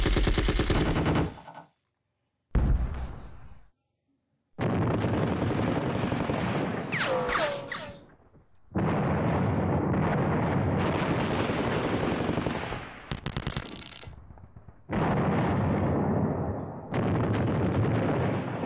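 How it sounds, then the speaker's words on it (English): Gunfire from units opening up in the Sealion '40 war game, loud bursts of shooting separated by brief silent gaps, with a rapid crackling volley partway through and long sustained blasts toward the end. "let's just go ahead and start shooting at them"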